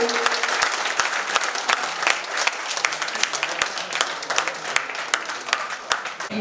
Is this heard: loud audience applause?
yes